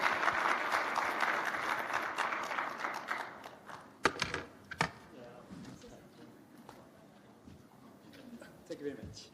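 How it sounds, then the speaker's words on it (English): An audience applauds at the closing ceremony of the 2023 Financial Street Forum in Beijing: a dense wash of clapping for about four seconds, then it thins to scattered claps and a few sharp knocks over a quieter room with low talk. "Please join me with applause."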